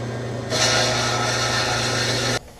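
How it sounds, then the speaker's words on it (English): A bandsaw cuts through 12-inch steel pipe, a steady loud grinding hiss starting abruptly over the motor's hum and holding evenly for about two seconds before cutting off. "First, I'm going to cut the pipe for the sides with the bandsaw."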